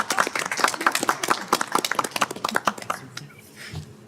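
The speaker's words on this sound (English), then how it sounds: "Golf clap." A scattering of polite, light golf claps at a school board meeting, a few hands patting quickly and fairly close for about three seconds before fading into quiet room tone.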